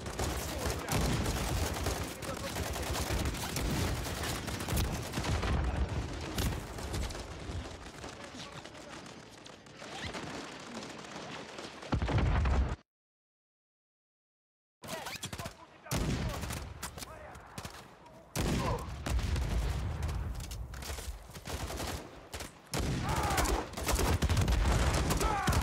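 Sustained gunfire from Call of Duty 3 campaign combat, dense rattling volleys and bursts with heavy booms, loud and close, broken by a sudden two-second silence before the shooting resumes just as intensely.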